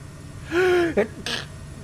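A single sneeze-like burst from a person, a short voiced rising cry followed by two quick breathy bursts, close and fairly clear against a faint background hum.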